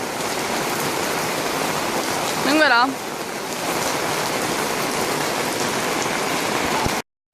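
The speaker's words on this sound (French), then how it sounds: "D'un coup il se met à pleuvoir." Steady rain pours down in Seoul, a dense even hiss of drops on surfaces throughout, with a brief voice speaking over it midway before the sound cuts off.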